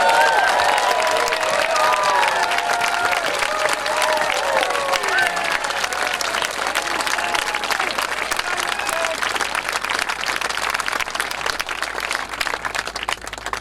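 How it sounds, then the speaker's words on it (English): A crowd at a coal seam gas mining blockade camp applauds steadily and warmly for over ten seconds, dense clapping mixed with a few cheers and scattered voices. "I want you to give him a big round of applause"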